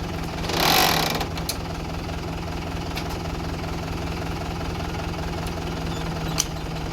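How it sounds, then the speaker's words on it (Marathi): A generator rotor turning over to produce electricity, heard as a steady low mechanical hum and engine-like drone throughout, with a brief louder rushing burst near the start and no talk. "आता रोटरनी हे फिरवणार आणि त्यांनी लाईट जनरेट होणार"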